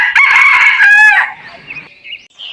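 Cartoon sound effect of a rooster crowing at dawn, one loud, close, drawn-out cock-a-doodle-doo that fades into a few faint, thin bird calls.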